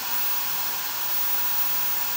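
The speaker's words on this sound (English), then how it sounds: "This is the professional hair dryer, the Les Stylistes." A Les Stylistes professional hair dryer fitted with a diffuser blows with a steady, loud, continuous airy roar, heard alone without talk.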